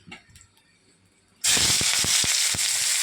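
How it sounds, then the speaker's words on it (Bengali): Dry chillies hit hot oil in a wok and burst into a loud, sudden sizzle that continues steadily, punctuated by sharp pops and crackles. "কড়াইতে তেল আর শুকনো মরিচ দিয়ে দিছি"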